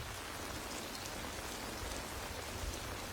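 Steady heavy rain pours down over a jungle at night in a WWII Pacific war drama, a dense continuous hiss of drops pattering on foliage and ground with a low rumbling undertone, no voices.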